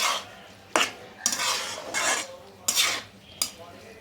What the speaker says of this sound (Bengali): এখন ভালো করে ডালটার সঙ্গে শাকের সঙ্গে মিশিয়ে নেব